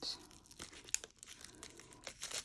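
Shrink wrap being torn and peeled off a boxed card deck from a planner brand, a close crinkly tearing and crackling that runs through the clip in uneven bursts with a sharp snap near the start.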